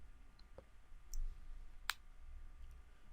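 A computer mouse clicks a few times, sharp and isolated, over a faint steady room hum while an operating system installer is being finished.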